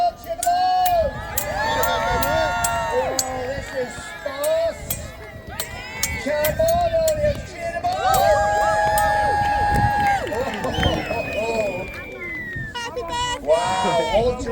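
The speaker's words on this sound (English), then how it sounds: "Come on, cheer them on!" Crowd at a medieval jousting festival at Arundel Castle cheers and shouts continuously, a dense, loud swell of voices with children's cries mixed in, while an announcer's amplified voice talks over the noise.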